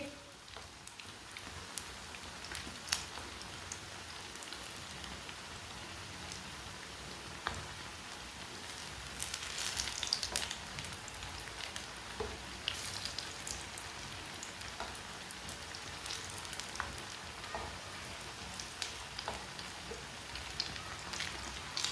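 Onion pakoras frying in hot oil, a continuous faint crackling sizzle with scattered sharp pops, steady throughout and close up.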